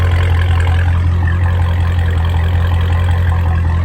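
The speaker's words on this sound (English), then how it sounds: "this is the idle sound" A Dodge Challenger Scat Pack with the mid muffler and resonator deleted idles in a loud, steady, deep burbling rumble, close by and continuous throughout.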